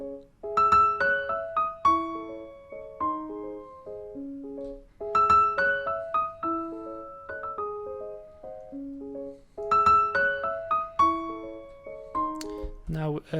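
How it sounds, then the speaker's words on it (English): An example melody programmed in FL Studio with varied note velocities plays as plucked synth notes, some soft and some louder, in a repeating phrase heard three times with no talking. "Now I made this little example melody just to kind of show you the difference."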